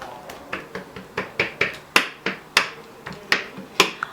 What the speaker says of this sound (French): Je vais faire des petits trous pour que la pâte puisse bien monter.